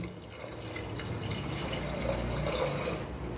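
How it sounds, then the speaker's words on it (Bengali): Warm water poured into a pot of sautéed lentils and spices for dal, a continuous close splashing pour with a faint watery trickle, steady and moderately loud, no voices. "এবার এর মধ্যে উষ্ণ গরম জল দিয়ে দিচ্ছি"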